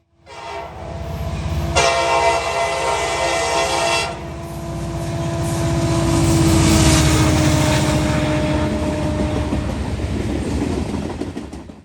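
A Norfolk Southern freight train, number 178, heading east through Plattsburgh on the Dayton District behind CSX locomotives, the lead an ex-Conrail unit. A loud horn blast sounds early over the steady roar and rumble of the passing train, which swells and stays close.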